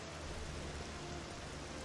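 Steady rain in the Morrowind world of OpenMW, a soft even hiss of falling water that holds without a break from start to end, with a low hum running underneath.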